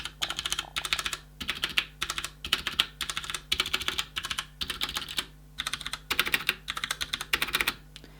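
Fast typing on a Ducky Channel DK9008 Shine II mechanical keyboard, including stabilised longer keys, gives dense clattering bursts of close, crisp keystrokes in quick runs separated by brief pauses, with no talking.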